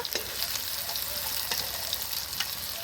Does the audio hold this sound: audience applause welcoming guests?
no